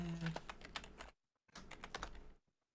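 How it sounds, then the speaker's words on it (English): Fast, uneven typing rattles on a computer keyboard in two close bursts separated by a short pause, with some voice sound mixed in during a tabletop role-playing game session. "Why am I typing it so bad?"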